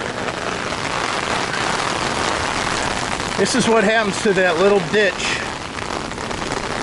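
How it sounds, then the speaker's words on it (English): Heavy rain pours steadily outside an RV during a stormy spell, a dense constant hiss of drops hitting surfaces and water, while someone talks over it partway through. "it rains real hard like it is right now"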